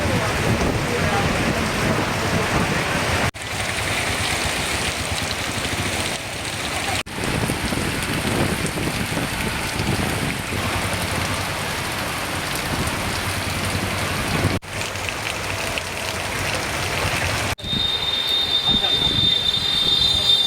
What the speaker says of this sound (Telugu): వేములవాడతో పాటు జిల్లాలోని చాలా ప్రాంతాల్లో ఉరుములు మెరుపులతో కూడిన వర్షం పడింది.